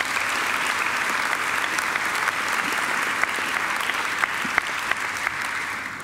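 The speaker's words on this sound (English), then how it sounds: "we also owe him another great round of applause for an excellent occasional address" Sustained audience applause fills a graduation ceremony hall at Macquarie, a dense, steady clapping from a large crowd with no one speaking over it.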